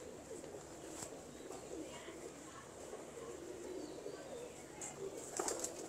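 Domestic breeder pigeons coo softly in a loft, the low murmuring calls fairly faint and steady throughout, with occasional wing flutters and small sharp noises near the end.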